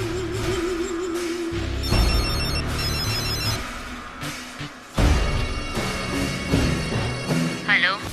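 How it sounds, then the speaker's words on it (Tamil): A telephone rings repeatedly in a Tamil TV serial scene, its electronic trill recurring in short bursts amid background music and effects, with voices speaking over it. "மேடம், உங்களுக்கு ஃபோன் வந்திருக்கு."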